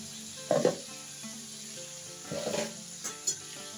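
Potatoes cooking in a pan with salt added, giving a soft steady sizzle with a few brief stirring scrapes and clinks, close and quiet.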